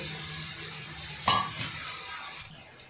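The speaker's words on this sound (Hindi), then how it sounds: "थोड़ी देर हम इन सबको पकाएंगे" Raw finely chopped carrots and other vegetables sizzle softly in a pan for veg pulao, with a brief clink of a spoon stirring partway through, the frying fading slightly toward the end.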